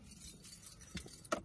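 Keys jangle and clink in a few quick bursts, close by, over a low background hum of a vehicle.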